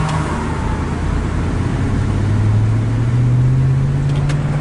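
A car with a 4L60E automatic transmission pulling away onto the freeway, the engine droning loudly with rising pitch as it accelerates, close and steady, with no talk.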